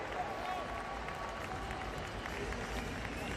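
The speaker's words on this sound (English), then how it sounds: "And Floors applauds him" Crowd applause fills a stadium at a para athletics meet after a race, a steady, distant wash of clapping and cheering under faint commentary.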